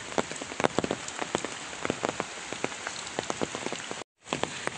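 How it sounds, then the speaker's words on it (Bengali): Steady rain falls on ground and surfaces outdoors, a close, even patter of drops with sharper individual hits, briefly cutting out near the end. "বৃষ্টি কিন্তু ভালোই হচ্ছে"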